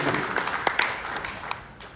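An audience at a Vestige Worldwide Dreamers anniversary event in Thailand applauds Sushil Kanajiya with scattered, fairly faint hand claps against a soft room hubbub.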